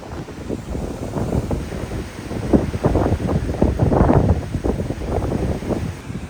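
Strong wind buffets the microphone in continuous roaring gusts at the storm-hit coast of Valvettithurai, with a low rumbling undertone like surf nearby; no one speaks.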